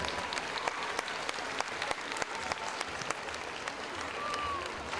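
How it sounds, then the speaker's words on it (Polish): Audience at a 2011 parish festival applauding as a band comes on, a dense, moderately quiet patter of clapping with a few sharper individual claps and faint voices in the background. "Brawa dla nadchodzących Kropeczek."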